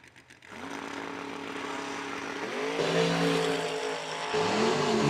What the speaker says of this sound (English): Another great wheel stand by Lindsay back